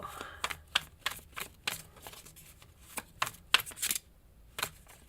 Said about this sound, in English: I know the shuffling can be annoying sometimes